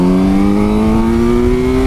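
A Kawasaki Z900 motorcycle on a test track accelerates hard. Its engine note climbs steadily in pitch, loud and close throughout, with no voices over it.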